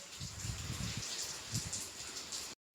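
Steady rain pours down in a broad, even hiss with scattered low patters of drops striking nearby surfaces, continuous at moderate volume before cutting off abruptly near the end.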